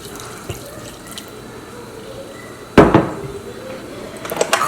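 Water poured into a blender holding ground beans for akara bean cakes, a sudden loud splashing gush that starts midway and continues with trickling, after quieter kitchen clinks and drips.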